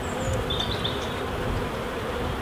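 Honey bees crawl jittery on a hive comb in a UK apiary in early spring, producing a close, steady, dense buzzing drone with no pauses and no talk.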